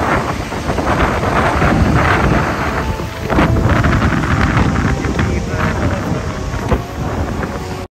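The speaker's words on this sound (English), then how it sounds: "So windy." Strong wind on Koh Rong Sanloem island roars continuously, buffeting the microphone in a dense, loud rush that barely lets up for the whole stretch.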